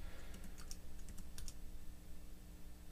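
Computer keyboard keys pressed several times in quick succession, soft and fairly close over a steady background hum, with no talking.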